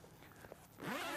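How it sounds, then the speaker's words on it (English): Zips on a Trakker Tempest Air fishing bivvy wrap being undone, a quiet fabric rustle followed by a brisk, rasping zip pull close to the microphone, with no talking. "Undo the twin zips either side."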